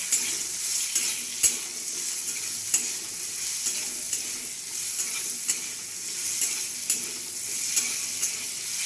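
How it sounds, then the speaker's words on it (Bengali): A spoon stirs food seasoned with turmeric powder in a sizzling pan, with a constant frying hiss and sharp scraping knocks recurring roughly every second, close and clear. "হলুদের গুঁড়ো দিয়ে আমি ভালোভাবে নাড়িয়ে নিচ্ছি।"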